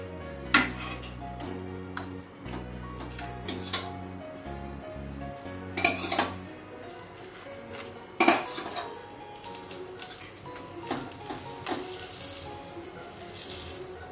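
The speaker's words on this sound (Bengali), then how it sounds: "দেখুন সমস্ত রোলগুলো কিন্তু এইভাবে আমি ভেজে নিচ্ছি।" Sweet corn rolls fry in a pan under a soft steady sizzle, mixed with frequent clinks and knocks of utensils against cookware and a few sharper metallic clatters, with quiet music in the background.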